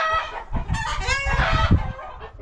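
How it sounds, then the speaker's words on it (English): Startled chickens cluck and squawk in a busy, overlapping burst, with a rooster-like crow mixed in, close and fairly loud throughout. "I guess I scared the chickens."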